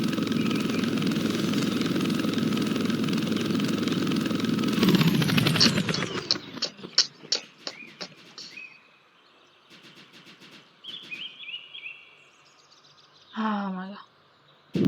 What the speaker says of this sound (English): my helicopter landed perfectly